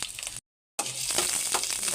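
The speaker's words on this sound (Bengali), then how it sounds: "এটা আমি সুন্দর করে একটু লাল লাল করে ভেজে নিব।" Onion, green chili and garlic frying in hot oil, giving a steady sizzle that breaks off briefly and then comes back stronger, close and fairly soft, with no talking.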